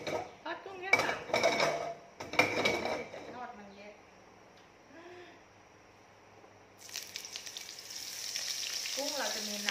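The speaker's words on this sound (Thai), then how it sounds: "ทอดกุ้งแค่สาม" Shrimp fry in a pan; sharp clatters of the pan and utensils and some talking come first, then a bright, steady sizzle rises and holds for the last few seconds.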